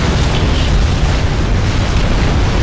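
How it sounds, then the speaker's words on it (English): Fat Boy cannons from the Supreme Commander real-time strategy game fire in a dense, continuous barrage, heavy rumbling booms and explosions blending into a loud, unbroken roar with no clear gaps between blasts. "Fat Boy cannons are just wiping them out bit by bit"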